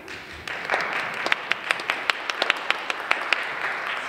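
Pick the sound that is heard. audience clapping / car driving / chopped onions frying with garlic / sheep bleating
audience clapping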